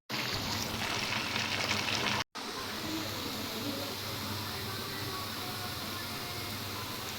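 Water boils with a steady hiss and bubbling while rice goes into the pot for biryani, close and fairly quiet, with a brief drop-out early on and then an unbroken rolling simmer.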